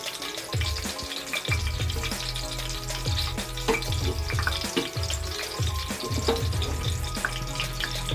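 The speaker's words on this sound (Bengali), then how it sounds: "আবার একবার তেলের মধ্যে দিয়ে দিলাম।" Batter-coated egg frying in hot oil, a continuous bubbling sizzle with repeated crackling bursts and low rumbling surges, close and steady, with no voices.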